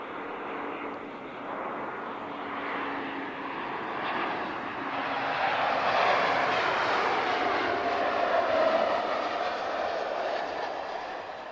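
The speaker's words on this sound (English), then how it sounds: "This is an Embraer E190." An Embraer E190 airliner at Lisbon Airport roars steadily at a distance, its broad engine rush swelling gradually and peaking midway before easing slightly, with no voices.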